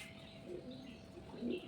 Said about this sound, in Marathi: वरून आता कबुतरांचे आवाज पण येतात त्यामुळे.